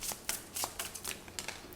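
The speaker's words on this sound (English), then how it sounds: "I'm going to shuffle this deck of cards right here" A deck of tarot cards being shuffled by hand, with a quick series of soft riffling flutters and slaps close up and fairly quiet, no voices.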